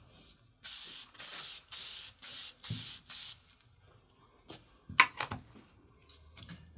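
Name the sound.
spraying a coat of Masters Quick Shine onto leather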